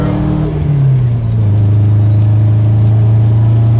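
A Subaru Forester rally car engine idles at close range, then blips and settles into a steady, loud droning rev with a deep rumble.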